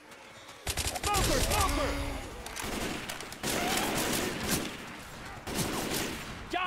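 Bursts of gunfire in Left 4 Dead 2, dense rapid shots and volleys coming in several loud waves, with brief voice callouts in between.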